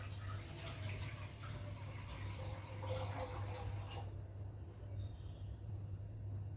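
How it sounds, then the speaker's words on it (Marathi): Water runs from a tap into a cooking pot for boiling dumplings, a steady close splashing stream that cuts off after about four seconds, leaving a quiet hum. "हे बुडतील इतकं पाणी आपण त्याच्यामध्ये घालणार आहोत"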